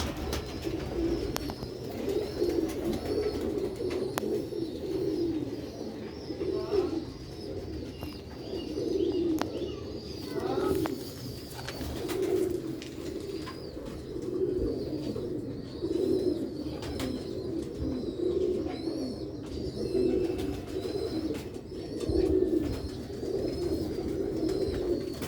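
Sialkoti pigeons of an old breed coo in a low, repeated, throaty rhythm for the whole stretch, fairly close, with faint chirps and rustling in the background.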